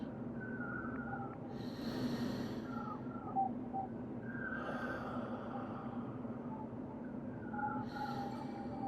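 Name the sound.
breathing out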